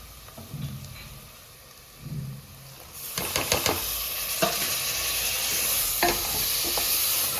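Tomatoes drop into hot chicken biryani masala, and a quiet start gives way to a sudden strong sizzle. Scraping stir strokes follow, and the frying hiss stays steady to the end.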